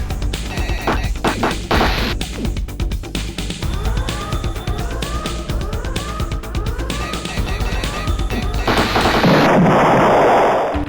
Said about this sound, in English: Primary weapon is this gun, secondary is that tongue attack.